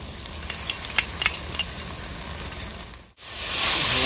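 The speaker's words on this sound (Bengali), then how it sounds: "এবার দিয়ে দেবো আদা রসুনের পেস্ট।" Ginger-garlic paste frying in a pan with onions and bay leaf, a steady hiss with a few soft utensil clinks; it cuts out briefly, then returns louder.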